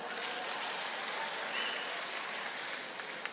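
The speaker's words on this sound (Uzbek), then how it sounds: "Bitta qarsak chalib beringlar." Concert audience clapping together at a comedy show, a dense, steady wash of applause that holds evenly throughout without any voices on top.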